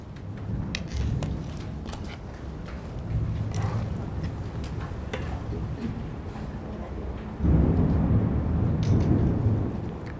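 Rain falls steadily throughout, and a low rumble of thunder swells loudly near the end, with faint bird calls scattered across the background.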